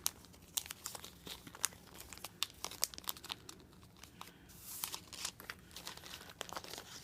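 Items come out of the back of a stamp set package with bursts of plastic and paper crinkling, rustling and light tearing. The handling noises are close, busy and uneven, with no talking.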